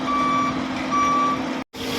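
A concrete truck backing up at a building site for a third-floor slab pour sounds steady, loud reversing beeps over a constant engine rumble, broken by a brief gap.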